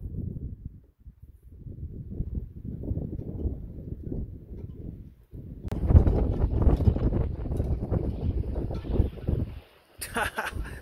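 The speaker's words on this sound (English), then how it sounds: "The wind's blowing like crazy right now" Strong wind blows outdoors on a roadside homestead, loud buffeting rumble that drops out briefly, then returns harder, with someone talking over it.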